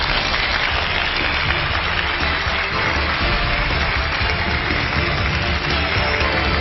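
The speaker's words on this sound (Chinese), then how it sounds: "让我们掌声请出她" Sustained applause from a crowd, a steady wash of clapping at constant loudness throughout with no pauses.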